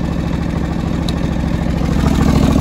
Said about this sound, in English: we've got a 20 horsepower Kawasaki liquid cooled engine.